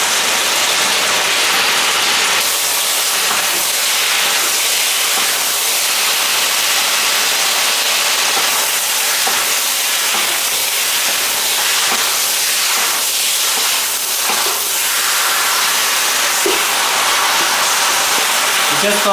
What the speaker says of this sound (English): Just going to pan fry this with the onions for like a few minutes